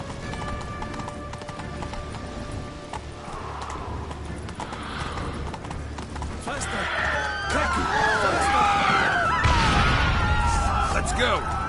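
Roach the horse galloping in The Witcher 3: Blood and Wine, rhythmic hoofbeats drumming steadily and growing louder, with a whinny and a burst of clatter near the end.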